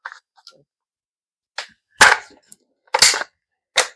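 A Bulgarian AK magazine is forced out of the rifle by hand in a few sharp metallic clacks and knocks, close and loud, with short pauses between the impacts.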